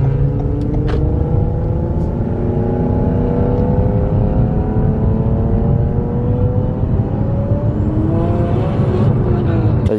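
A boosted Nissan 350z with a blown turbo makes a sustained full-throttle pull, its loud engine note rising steadily across several gears close by, with no pauses.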